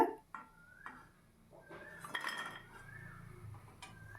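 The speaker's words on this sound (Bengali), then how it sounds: "এবার আমি আস্তে আস্তে করে তুলে নিলাম" Fried crispy potato snacks are lifted from a pan with a metal utensil, producing quiet, sparse clinks and scrapes at close range.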